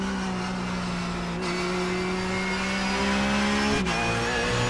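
A Porsche race car engine in iRacing at Okayama holds a loud, steady high-pitched drone under throttle, its pitch climbing gradually and then dropping sharply with a quick shift before rising again. No voice is heard.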